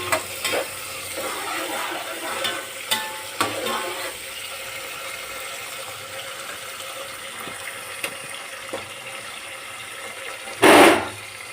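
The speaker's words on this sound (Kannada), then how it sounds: "ಸ್ವಲ್ಪ ಎಣ್ಣೆಯಲ್ಲಿ ಫ್ರೈ ಮಾಡ್ಕೊಬೇಕು ಫ್ರೆಂಡ್ಸ್" Peas and cauliflower frying in a little oil, a low continuous sizzle broken by occasional stirring clinks and scrapes, then a loud short burst near the end, with no speech.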